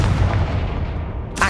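A Confringo spell explodes in the Hogwarts Legacy video game with a heavy, booming blast that rumbles low and loud, then decays, with a sharp crack at the very end.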